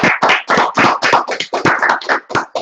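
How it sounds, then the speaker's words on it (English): A round of applause closing a Bhagavad Gita study session, a short burst of close, brisk clapping from a small group, sharp and uneven hand claps for a couple of seconds with no voices. "I think he deserves a big round of applause."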